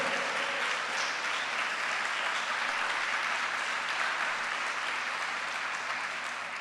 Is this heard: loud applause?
yes